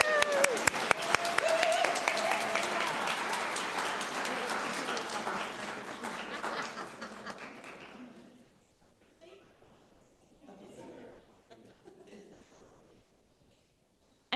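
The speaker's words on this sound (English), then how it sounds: "Let's all welcome our new members with a round of applause." A congregation at a Unitarian Universalist service applauds its new members, a close, full burst of clapping that fades after about eight seconds, leaving quiet room sounds and some faint voices.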